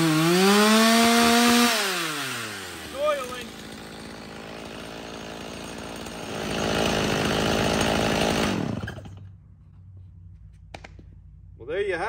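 A rebuilt, warmed-up Stihl chainsaw with a freshly cleaned carburetor revs hard, drops to idle, then snaps back up to a loud high-pitched scream before cutting off, with a brief sputter at the end.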